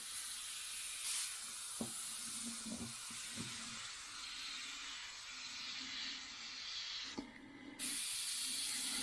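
A Fengda FD-186 airbrush sprays old paint with a faint, steady hiss of air, broken by a few small clicks and a brief louder burst near the end.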